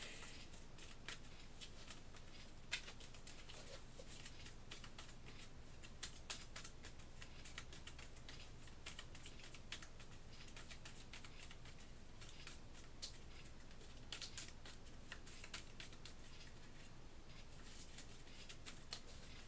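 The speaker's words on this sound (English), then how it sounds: "Shuffle this deck up now." A deck of game cards for the board game Kingdom Death: Monster is shuffled, giving a faint, steady, crisp riffling patter that runs for about twenty seconds with no talking.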